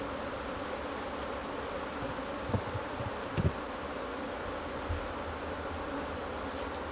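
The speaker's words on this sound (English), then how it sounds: "this will give you an idea of the quantity of bees that it takes to be around you in order for you to produce honey" A steady, dense buzz from many honey bees swarming around a beehive, constant and fairly loud throughout, with a few faint clicks and knocks and no speech.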